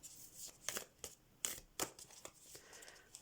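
Oracle cards shuffled by hand in a series of quick, soft riffling bursts spaced irregularly, fairly quiet and close, with no speech.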